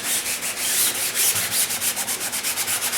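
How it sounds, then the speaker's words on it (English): Hand sanding a filler coat along tape edges, a close, rhythmic rasp of short back-and-forth strokes repeating steadily with no talking. "you sand just on the tape edges first"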